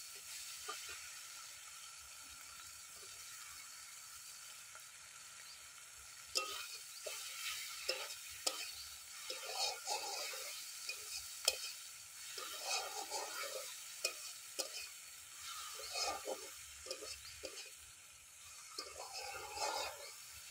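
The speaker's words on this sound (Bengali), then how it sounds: "এবার দিয়ে দেব ভেজে রাখা চিংড়ি মাছ" Fried prawns are stirred into a mustard-poppy seed gravy, a soft low sizzle at first, then repeated spoon scrapes and bubbling bursts over a quiet, steady hiss.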